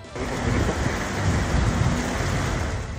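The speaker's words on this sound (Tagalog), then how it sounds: "Halos mag-zero visibility sa Baguio City dahil sa walang humpay na ulan." Heavy, incessant rain pours down in Baguio City, a dense, steady roaring wash that fills the whole clip with no pauses.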